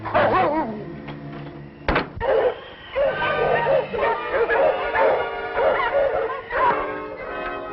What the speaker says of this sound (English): You hear those dogs?